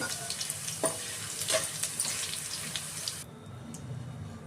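Steady crackling sizzle of potatoes frying in a pan, with a few sharp clinks and stirring noises, then the sizzle drops quieter near the end.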